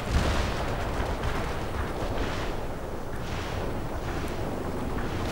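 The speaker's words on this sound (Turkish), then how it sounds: "Bu topçuları çok seviyorum ben. Yani uzaktan hiç sıcak çatışma yokken direkt tak tak tak tak vuruyor adamlar." Artillery fire in the video game World in Conflict: a dense, continuous barrage of loud booming blasts with rumbling swells and no talking.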